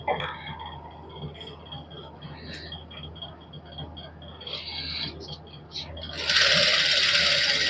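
A sewing machine stitches a salwar with a low, steady mechanical whir and light clatter, then a louder, harsher burst near the end. Someone talks over the machine.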